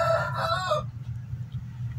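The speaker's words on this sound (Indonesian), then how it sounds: "jadi ayam rainbow-nya sedang berbunyi" A rooster crows loud and close in the morning, its call ending within the first second and leaving a low steady hum.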